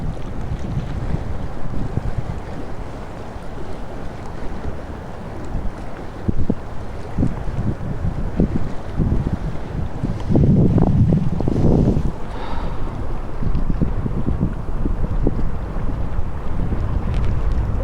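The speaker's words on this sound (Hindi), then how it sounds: "आप हवा का अंदाज़ा कर सकते हैं उसका शोर वॉल्यूम सुन के।" Strong wind at a beach in Khobar roars and buffets the microphone continuously, with surf rumbling underneath and no voices, loud and unbroken throughout.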